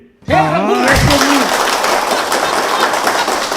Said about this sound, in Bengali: হাততালির জোশটা কম হচ্ছে